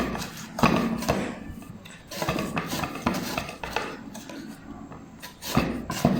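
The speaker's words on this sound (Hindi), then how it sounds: "जैसे कि आप देख रहे हैं नाजरीन, हम गाजरों को कद्दूकस कर रहे हैं।" Fresh carrots grated by hand on a metal grater, giving repeated close scraping strokes in an uneven rhythm, with occasional knocks against the grater and bowl.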